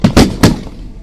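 Gunfire comes in from Islamic State fighters during the battle for Mosul: three sharp, loud cracks in quick succession, the last ringing out into a fading tail.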